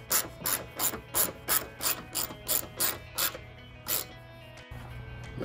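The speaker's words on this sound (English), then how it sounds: "Get the ratchet and go ahead and tighten it up." Hand ratchet tightening a headlight mounting bolt on a 2007-2013 GMC Sierra 1500, giving about a dozen quick, crisp clicking strokes in a steady rhythm, close and clear, followed by a pause and a low engine hum.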